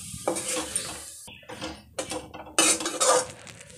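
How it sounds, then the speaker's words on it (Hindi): A spoon clinks and scrapes against a metal bowl while paneer is mixed with chopped green garlic and coriander, in short irregular bursts of close, bright clatter. "पनीर के साथ में हम डालेंगे कटा हुआ हरा लहसुन और कुछ और में डालेंगे हरी पत्ती धनिया। तो इसको हम इसी में मिला लेंगे।"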